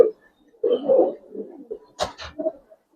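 Gribaz coloring pigeons coo softly in a loft. Low, murmuring coos come in short bursts, broken by a couple of sharp, brief flutters or clicks nearby.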